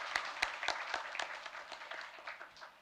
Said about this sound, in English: Let's facilitate him with a big round of applause.